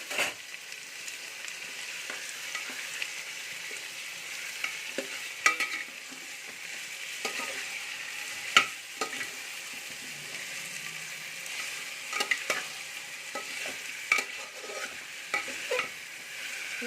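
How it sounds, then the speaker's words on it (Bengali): Onion and ginger-garlic paste fry in a pan for chicken biryani, a soft continuous sizzle punctuated by repeated scraping and clinking strokes of a spatula stirring close by. "পেঁয়াজ আর আদা রসুনের পেস্টটা দিয়ে দেবো।"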